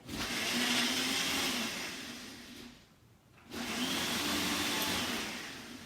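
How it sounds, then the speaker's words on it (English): A blender whirring loudly in two long runs with a brief pause between, a steady grinding roar close by. "Okay, I'm gonna blend this away."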